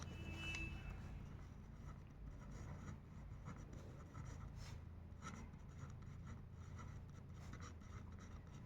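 Pen writing out the answer to a Class 10 heights-and-distances maths problem by hand, a soft continuous scratching of strokes on paper, faint and steady under a low room hum.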